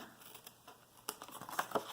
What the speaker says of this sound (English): I'm going to cut down this fold line,